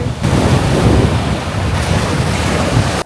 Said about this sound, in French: Il y a beaucoup de vent, mais la plage est trop belle.